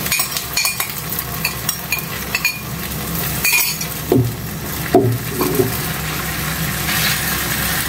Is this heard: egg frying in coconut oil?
yes